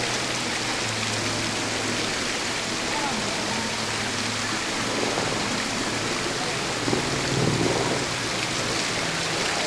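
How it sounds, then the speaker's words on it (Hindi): Water from a mountain stream on the Kedarnath trek in Uttarakhand pours into a bottle, a steady broadband rush of flowing water filling the whole stretch at constant loudness, with no clear talk. "पानी भरते हुए"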